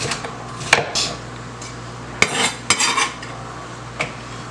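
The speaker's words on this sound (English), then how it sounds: "I'm going to cut up my peppers." A knife cuts up peppers on a cutting board while cooking curry chicken: a few sharp, irregularly spaced knocks and clicks over a low steady hum, with no talking.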